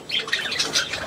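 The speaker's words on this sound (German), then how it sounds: "Du bekommst den dunkelblauen, das ist ein Vogel" A dark blue budgie lets out a quick series of sharp, chirpy squawks, close and loud over about a second.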